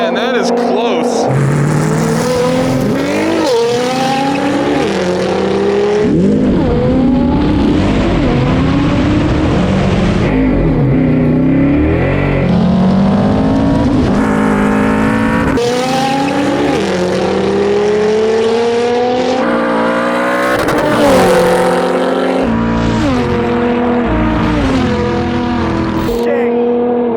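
A rear-wheel-drive R35 Nissan GT-R and a Trans-Am Series race car drag racing, with loud engines sweeping up through the revs again and again beneath continuous excited talk and crowd noise.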